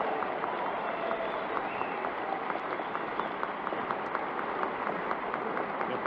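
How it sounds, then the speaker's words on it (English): A sustained ovation in the chamber of the United States Congress for President Eisenhower at his 1953 State of the Union address: dense, even applause from a large crowd, continuous and steady throughout, heard on an old broadcast recording. "The applause continues."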